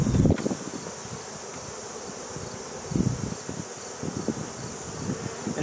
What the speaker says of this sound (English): There's not a whole lot of bees in here.